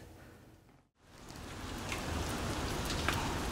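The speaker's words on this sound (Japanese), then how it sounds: "うわー結構雨降ってんな。" Heavy rain falls outdoors in a dense, steady hiss that starts after a brief dip to near silence and then holds loud and constant, with a few sharper drops standing out near the end.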